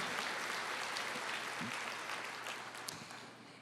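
A church congregation applauds together during a worship service: steady, sustained clapping heard at a moderate distance that gradually thins toward the end.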